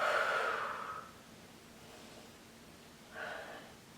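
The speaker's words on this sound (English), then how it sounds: "Take a breath" A person doing a Pilates arm workout takes a soft audible breath, one long airy exhale near the start followed after a pause by a shorter inhale, close and quiet with no talk.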